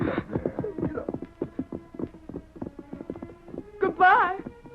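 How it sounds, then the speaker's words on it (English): A pack horse's hooves clip-clop in a steady walking rhythm, close and moderately loud, with a voice briefly calling out near the end. "I'll lead the pack horse"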